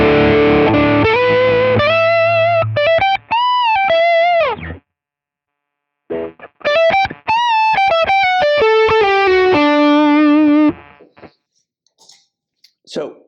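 Electric guitar lead lines played through Quad Cortex amp captures, loud distorted sustained notes and quick runs in two phrases separated by a brief silence, with a few faint picking clicks at the end.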